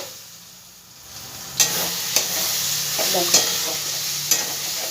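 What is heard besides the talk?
chicken chana masala being sautéed and stirred in pan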